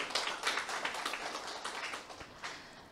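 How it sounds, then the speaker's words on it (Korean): At a business seminar, an audience gives a brief, faint burst of dense clapping that fades over a few seconds. "그 대상들에게 박수 한번 칠까요?"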